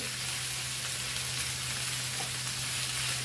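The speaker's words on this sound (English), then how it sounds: "And let's fry this nicely." Goan fried rice sizzles in a pan, a steady, even hiss of frying with a low constant hum underneath, close and uninterrupted, no talking.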